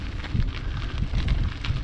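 Chilly easterly wind on the first day of spring in open fields, a steady low rumble of gusts buffeting the microphone, fairly quiet with no voices.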